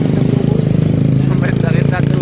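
Motorcycle engine running nearby, a loud steady chugging idle with a rapid pulsing rhythm, with people talking over it.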